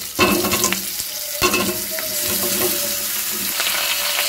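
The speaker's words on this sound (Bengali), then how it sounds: "এবার আমি ডুমো ডুমো করে কেটে রাখা লাউ দিয়ে দেবো।" Diced bottle gourd hits hot mustard oil with whole cumin and slit green chilli, giving a loud, steady sizzle with stirring scrapes and a few sharp clatters of the spoon against the pan.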